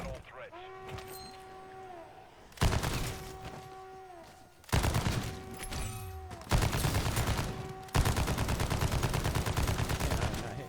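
Gunfire in a Call of Duty Modern Warfare 3 Zombies match, dense bursts of rapid automatic shots starting and stopping in several loud stretches, mixed with game tones and voices talking.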